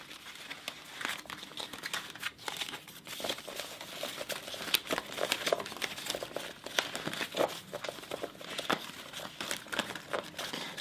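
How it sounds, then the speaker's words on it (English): A deck of playing cards being shuffled by hand, with dense crisp riffling and crinkling bursts repeating steadily up close across the whole stretch, no talking. "shuffle the deck"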